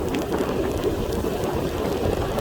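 Steady rain falls on a village in Laos, a dense continuous patter on surfaces with scattered individual drops, fairly close and holding an even level, with no voices.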